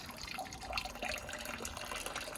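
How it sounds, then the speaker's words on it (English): Tap water runs at a slow, steady trickle into a wort chiller during a home brew day on a Braumeister 20-litre system, giving a continuous close splashing and dripping wash with no voices. "I'll just turn it on so that the water's just about flowing"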